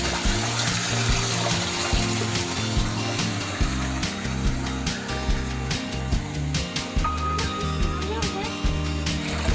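Water pours steadily into a tank and overflows out through a hose, a continuous gushing and splashing wash with faint intermittent clatter on top.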